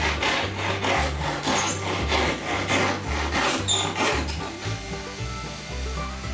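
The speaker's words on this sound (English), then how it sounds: "Now I can clean cut the other side." A hand saw or rasp cuts back and forth through a wooden joining piece for kayak hulls, loud rhythmic rasping strokes close by, roughly one per second, with no one talking.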